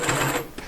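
A sewing machine running a short burst of back stitching, a fast mechanical whirring buzz close up that lasts under a second before tapering off.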